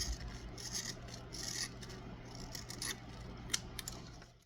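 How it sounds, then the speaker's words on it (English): Scissors cut down glue brushes for an inflatable boat hull patch repair, giving faint, close snipping and rasping strokes in irregular bursts with no speech. "With your brushes, if you're doing patches, it's best to cut them down a bit."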